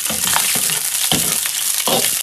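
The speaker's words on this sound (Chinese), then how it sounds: "葱姜蒜爆香" Scallion, ginger and garlic sizzle hard in hot oil in a wok, a dense steady frying hiss broken by a few stirring scrapes and tosses, close and loud with no talk.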